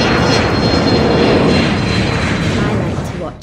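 An airplane engine in flight makes a loud, steady broadband roar that fills the whole stretch and eases off slightly at the end. A voice can be faintly heard under it.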